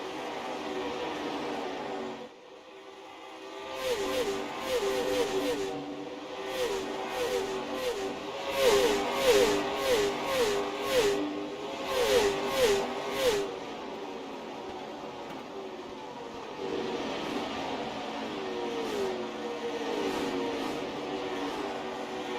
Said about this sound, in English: listen in to all these cars fly by, because that's what we love to see